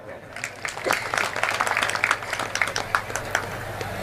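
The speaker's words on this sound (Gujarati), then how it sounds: "બેયને તાળીઓથી વધાવો." Audience applause at a live Gujarati comedy and folk talk show, a crowd clapping in a lively, uneven burst that builds and carries on throughout, moderately loud from the hall.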